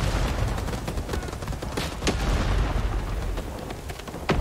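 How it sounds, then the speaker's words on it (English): A grenade blast rumbles amid dense, continuous battle noise in the Vietnam-era shooter Rising Storm 2, with loud boomy low rumble and crackling gunfire layered throughout. "Oh, a nade."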